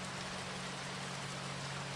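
Steady rain falling, an even, dense hiss of drops that stays constant throughout with no pauses, moderately loud and filling the whole space, with no voices.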